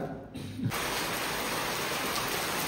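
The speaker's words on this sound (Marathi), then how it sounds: "आणि पाऊस नुसतो वत्ता" Steady, dense rain hiss fills the scene after a brief quieter moment at the start, a loud continuous downpour close by.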